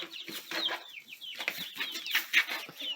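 Several chickens inside a coop cluck and chirp in an overlapping, busy chatter at moderate volume, with a faint flutter of movement and no people talking.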